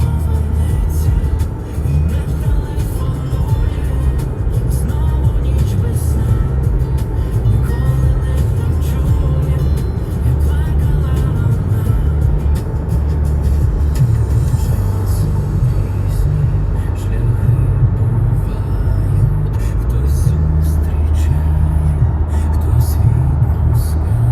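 Steady in-cabin road noise from a car driving along a route toward Ivano-Frankivsk and Yaremche, a constant low engine and tyre rumble running the whole time with no talk.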